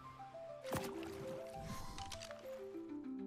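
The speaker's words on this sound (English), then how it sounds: "I heard the sound of water" Water splashing in the survival game Ark Survival Ascended, a brief wet squishing burst near the start followed by softer drips and gurgles under steady game music tones.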